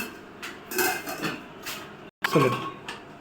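A metal pot lid clinks and clatters onto a pot on a stove as the flame is turned down, several sharp knocks with a brief scrape, close by, with faint background voice.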